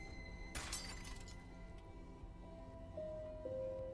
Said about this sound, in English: And then I heard glass break.